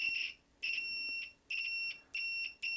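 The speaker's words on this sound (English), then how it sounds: "It's an old school beep, but it is an instant beep." Old-school analog multimeter (Ruoshui 3010) giving an instant continuity beep: a steady high-pitched electronic tone sounding in four clear bursts with short gaps, close and fairly loud.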